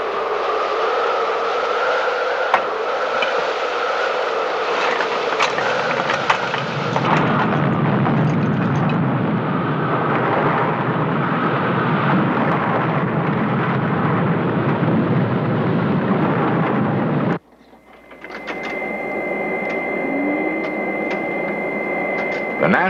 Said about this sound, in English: Observing the effects of a simulated tornado on this model city provides graphic evidence of the power of the wind